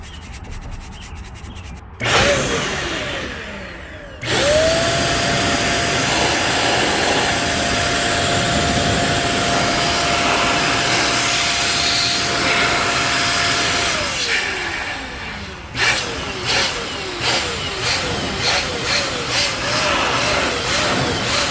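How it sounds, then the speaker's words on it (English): A mini air blower blasts dust out of a PC, its steady high-pitched whine running loud and continuous for about ten seconds, then dropping off into a series of short, sputtering bursts. "probably blew that a little too hard for the fan on the other side"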